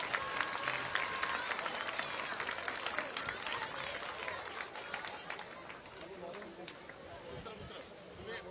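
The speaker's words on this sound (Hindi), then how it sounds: "एक बार जोरदार तालियां हो जाए उनके लिए।" Audience applause at the opening of the Gomti book festival, a dense steady wash of clapping across the whole stretch, fairly distant and even, with crowd noise blended in and tapering slightly toward the end.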